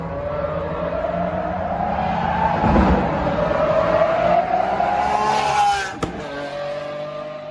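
Aston Martin supercar engine roaring loudly at close range, its pitch sweeping steadily upward through the revs before cutting off sharply near the end, followed by a lower residual rumble.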